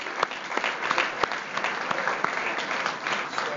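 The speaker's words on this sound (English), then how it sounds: "So just a quick round of applause for our esteemed panelists." Audience at a Phoenix chamber of commerce panel event giving a brief round of applause, a steady moderate patter of many hands clapping in a room, without talk over it.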